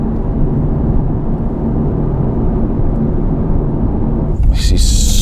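An Aston Martin car engine while driving, heard from inside the cabin as a steady, loud low rumble that continues throughout, with a brief higher-pitched burst near the end.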